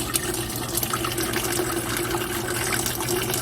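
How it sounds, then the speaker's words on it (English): Warm apple juice strained from homemade applesauce is poured carefully into a batter bowl, a steady splashing trickle of liquid that runs continuously and alone. "Pour this very carefully"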